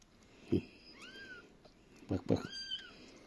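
Orphaned kittens give several thin, rising meows close by, set between low, soft voices of people talking quietly.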